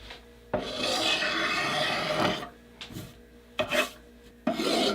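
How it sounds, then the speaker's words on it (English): A knife blade held two-handed scraping old finish off a wooden axe handle, several rasping strokes of differing length, close and distinct, with brief pauses between them. "Take the knife, hold it in two hands, and just scrape"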